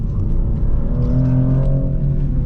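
A 2024 Maserati GranTurismo Trofeo with its Nettuno twin-turbo V6 revs steadily and loudly throughout, a continuous deep engine drone with rising harmonic tones heard from close by, no talk over it.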